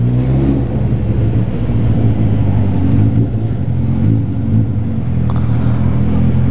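Honda CBR 250 motorcycle idling in a parking lot, its exhaust giving a steady, close, low rumbling drone with slight fluctuations in the engine note.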